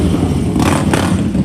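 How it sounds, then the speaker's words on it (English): A motorcycle engine rumbles close by outside, giving a loud, steady, throaty drone with a slight rise in intensity partway through. "It's always noise wherever you go. It's a motorcycle"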